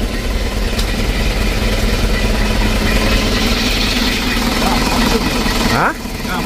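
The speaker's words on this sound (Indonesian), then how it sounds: "Oke, kita tes, hidupkan lagi mesin teraganya." An Isuzu Traga engine idles steadily and loudly just after starting, a continuous rumble that cuts off near the end, with people talking over it.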